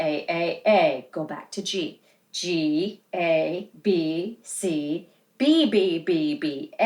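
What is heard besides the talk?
No everyday noises stand out.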